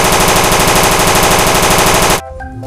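A toy M60 machine gun plays rapid, loud automatic gunfire sounds that rattle continuously for about two seconds, then cut off abruptly, leaving faint clicks and quiet background.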